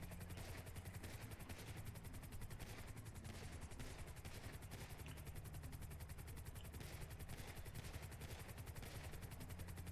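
Continuous rapid automatic gunfire in a video game, with a steady rattling rhythm, dense and unbroken, over a low rumbling drone like a helicopter.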